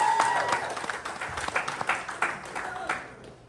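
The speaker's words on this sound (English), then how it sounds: "Round of applause for the battlers before we start." An audience at a comedy roast battle claps with rapid, uneven hand claps that swell and then fade over a few seconds, with some crowd noise mixed in.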